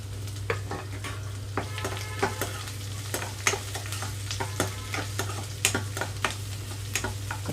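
Onions and green chillies frying in tempered oil with spices, a steady sizzle broken by repeated sharp spoon scrapes and taps against the pan, close over a low hum, no speech.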